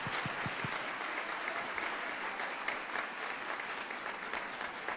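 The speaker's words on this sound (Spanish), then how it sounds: "la maestra Xóchitl se merece otro aplauso" Audience applause for a teacher at a lecture on Mexican education, a steady, dense clapping from a room of people that holds evenly throughout without any talk.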